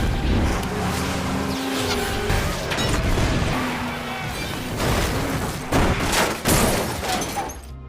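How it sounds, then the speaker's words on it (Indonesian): Gunfire aimed at a truck in a Russian mafia action film, sounding as a loud, busy action mix of vehicle engine roar, bursts of shots, crashes and impacts running continuously throughout. "dia pun memerintahkan anak buahnya untuk menembak truk yang dikendarai John"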